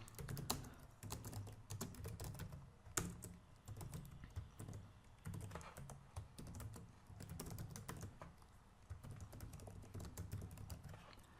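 Code is typed on a computer keyboard in quick, irregular bursts of close, crisp key clicks with short pauses, heard alone.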